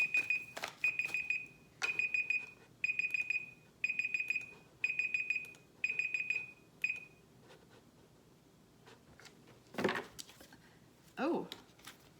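A timer alarm beeps in rapid repeated bursts, grouped in about six evenly spaced pulses, then stops; a couple of louder knocks and rustles follow near the end.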